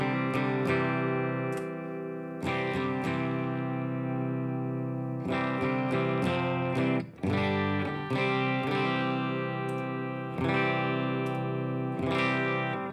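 Electric guitar chords ring out thick and driven through a K Drive overdrive pedal, sustained strums with brief pauses, loud and close.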